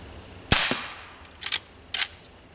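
A Henry H001 rifle fires CCI CB .22 short rounds outdoors: a sharp crack, then two quick metallic pings and a later third ping as rounds strike steel and a chain, close and loud with no talk.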